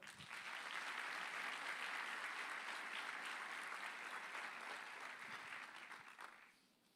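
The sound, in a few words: congregation applauding in church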